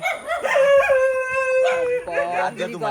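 Dogs howl in long, wavering, overlapping tones, close and fairly loud, with a few yips breaking in near the end.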